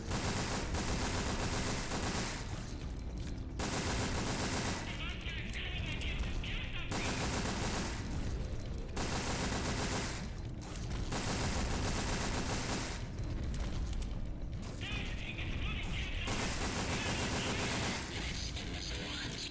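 Shotgun and rifle shots in Resident Evil: Dead Aim come as loud, dense bursts of gunfire that alternate with short gaps, repeating steadily over a constant game background.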